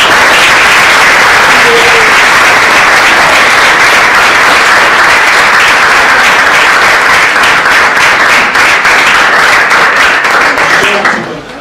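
An audience at a wine and peach tasting day gives sustained loud applause, a dense wash of clapping that holds steady for about eleven seconds before tapering off at the end.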